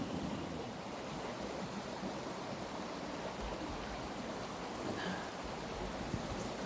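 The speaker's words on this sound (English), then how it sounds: "and I can see the stream" A stream flowing in cold, chilly open air, giving a steady broadband rush of running water throughout with no voices.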